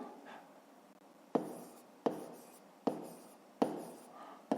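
Pen writing on paper while solving a fifth-grade math exercise, with several short scratchy bursts of strokes, each starting with a sharp onset and then trailing off, close and quiet, with no talk.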